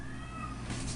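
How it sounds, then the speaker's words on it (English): A cat meows close by, a single drawn-out call over steady low room noise, with no talking. "Sorry for the cat noise."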